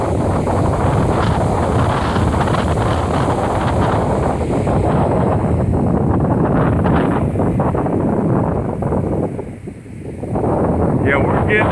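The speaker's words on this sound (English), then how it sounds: "we're getting another pretty decent windstorm here" Strong gusting wind rushing through moving trees during a windstorm, a loud continuous roar with heavy microphone buffeting that briefly dips near the end.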